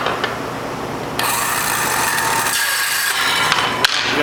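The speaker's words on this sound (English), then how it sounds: "this piece that I have here is about the right length, but I need to taper cut it." A piece of bumper plastic is taper cut by a power tool close up, producing a steady, harsh rasping and grinding with a few small clicks and no talk.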